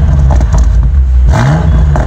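A BMW M8 Competition with a 4-litre twin-turbo V8 revs loudly against its 3000 rpm limiter, engine note surging and cutting in pulses as the exhaust flaps pop and clatter close by.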